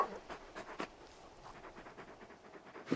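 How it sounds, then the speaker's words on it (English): A big dog in the Final Fantasy XVI video game pants in quick, rhythmic, breathy puffs with faint whimpering, close and moderately quiet over a soft game background. "You're just a big puppy, aren't you? A very big puppy."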